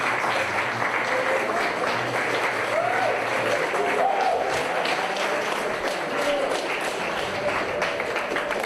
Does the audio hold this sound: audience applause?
yes